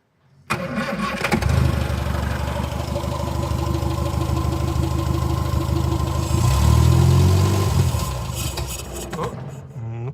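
An old Morris Minor pickup, neglected for over 20 years, cranks and catches, then runs with a loud, steady, close engine drone that rises briefly before settling and cutting out.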